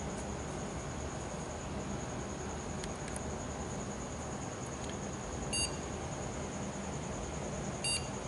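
Two short computer beeps ring out from an AMD Athlon X4 640 PC during an FSB overclocking attempt, a faint pair of chirps just over half a second apart near the end, over a steady hiss of fan and room noise.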